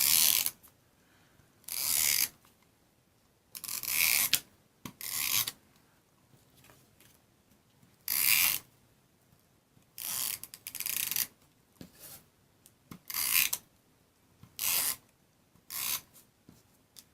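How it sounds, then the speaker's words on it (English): A tape runner pressing adhesive onto paper panels inside a handmade box card, making repeated short rasping zips about a second long, close and fairly loud, separated by brief quiet pauses. "I'm going to go ahead and adhere these panels to where I want them to be, right inside, with my little tape runner"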